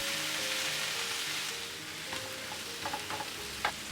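Chopped spinach fries in a pan while being mixed, a soft continuous sizzle with faint scraping strokes and a few sharper taps toward the end.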